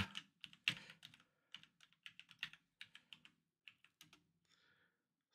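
A password is typed on a computer keyboard during a UniFi Network Application install on a Linux server: close, crisp keystrokes in irregular quick bursts, with short pauses and no voices.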